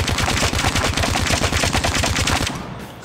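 Rapid, sustained automatic fire from the ICR-1 rifle in the shooter game COD Mobile, with dense evenly spaced shots over about two and a half seconds, then a fading tail.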